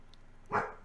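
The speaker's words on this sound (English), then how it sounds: "As you see, she's still got a little bark left in her." A single short bark from a dog, moderately close and loud against a quiet background.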